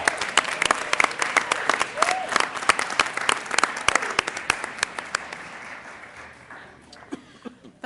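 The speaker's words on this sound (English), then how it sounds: "one more round of applause for our nationally board certified teachers." A school board meeting audience applauds nationally board certified teachers, steady crowd clapping that thins out and tapers toward the end, with a faint voice underneath.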